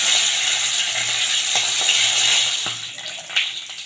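Khoira fish go one by one into hot oil in a wok. A loud, steady sizzle and crackle fills the space close up, then eases slightly as a brief spatter flares near the end.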